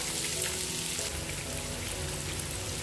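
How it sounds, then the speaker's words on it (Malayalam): Two medium onions, thinly sliced lengthwise, frying in a pan for kuska rice, an even, close crackling sizzle that holds steady with no voices. "രണ്ട് മീഡിയം സൈസിലുള്ള സവാള നീളത്തിലെ കനം കുറച്ച് അരിഞ്ഞത് ഇതിലേക്ക് ഇട്ട് കൊടുക്കുക"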